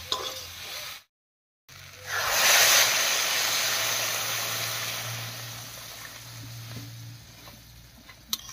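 Water poured into a hot pan of cooked spices for vegetarian ghugni hisses and sizzles loudly, then settles into a long, fading simmering fizz after a brief gap.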